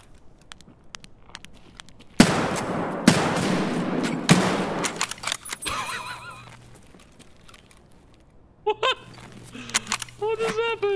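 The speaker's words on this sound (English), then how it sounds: "Oh, why are you shooting me?" A quick burst of three loud gunshots in Escape From Tarkov, each cracking with a short ringing tail, followed by a quieter stretch of game noise and a voice speaking near the end.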